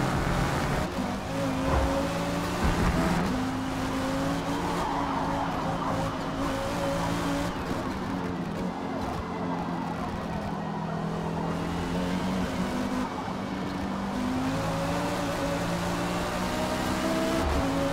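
A KTM GT2 race car's engine drones loud and steady as it laps the Le Mans circuit in the Forza racing game, with shifting tones and occasional tire squeal, and no talk.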